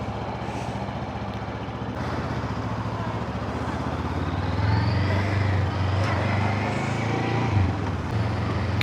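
A Honda CL500 motorcycle rides along steadily, its low engine drone and road rush continuous and moderately loud, swelling slightly as it picks up speed, with no talking.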